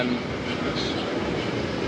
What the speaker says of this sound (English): train's coming in a minute, I can hear it